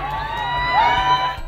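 Parents cheering and calling out as camp buses pull away from South Charlotte, a brief swell of crowd voices and whoops at moderate distance, peaking midway.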